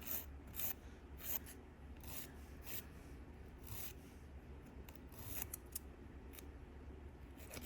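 A plastic press-on nail is filed into an almond shape with quick, quiet back-and-forth rasping strokes, close but faint, with no voices.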